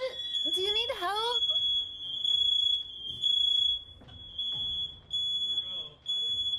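A shrill, piercing alarm tone sounds continuously, while people shout and talk excitedly over it in bursts.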